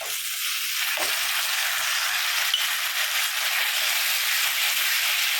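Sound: tomatoes and onions sautéing in pan

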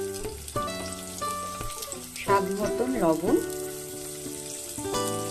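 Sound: onion, garlic and tomato frying in a pan

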